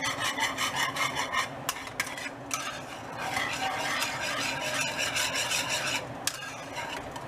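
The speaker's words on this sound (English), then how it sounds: "I'm going to keep whisking around." Cream being whisked in a bowl for homemade banana pudding, a rapid rhythmic scraping and rasping of the whisk against the bowl, close and continuous with brief pauses, no talking.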